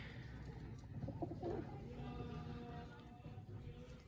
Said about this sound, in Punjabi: ਆ ਵੇਖੋ ਰੱਤਾ ਕਬੂਤਰ ਚੈੱਕ ਕਰੋ